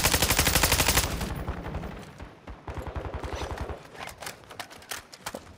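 Rapid bursts of AK47 automatic fire crackle in the Warzone video game on the Vondel Park map, starting with a dense fast rattle and breaking into shorter scattered volleys.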